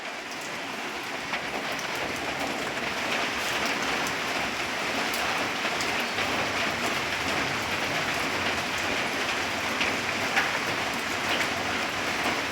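Light drizzle falling outdoors, a steady soft patter of fine raindrops on surfaces, continuous and even with no voices.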